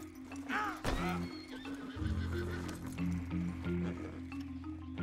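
A horse whinnies sharply near the start, then hooves clop along beneath steady game music in Red Dead Redemption 2.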